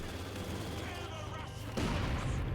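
Mortar fire from a half-track in the Company of Heroes 2 video game, a muffled distant thump amid a rumbling battle ambience of scattered booms and low mechanical drone, with a sharper impact near the end.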